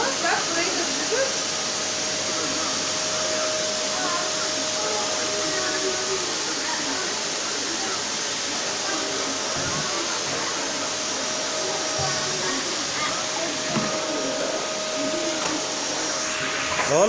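An electric vacuum cleaner runs steadily through a house, a continuous loud motor whine and airflow hiss that holds for the whole stretch with small shifts as it moves, while people talk over it.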